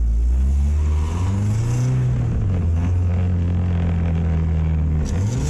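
A car engine revving while driving in second gear through a tight lot, the mid-range drone rising and falling in pitch as the throttle works, loud and close throughout with no speech.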